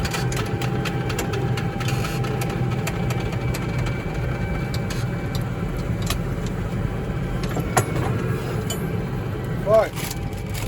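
A New Holland T7.270 tractor engine runs steadily with a plough in a field, a constant mid-low drone throughout with a few faint clicks and a brief squeak near the end, no voices.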